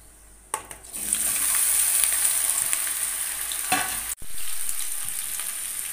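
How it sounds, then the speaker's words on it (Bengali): Taro stolons hitting hot oil with lightly fried black cumin, giving a sudden loud sizzle that settles into a steady, close hiss of frying, with a brief clatter of stirring and a momentary break near the end. "কালো জিরেটা হালকা করে একটু ভেজে নিলাম, এইবার কচুরলতি দিয়ে দিচ্ছি"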